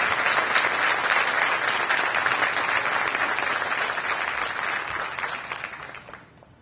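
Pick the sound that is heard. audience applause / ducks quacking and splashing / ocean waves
audience applause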